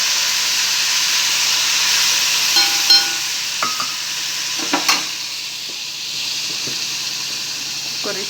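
Dill and sorrel mixed vegetables sizzling steadily in a hot pan, a continuous hissing fry with a few soft scraping stirs, close up.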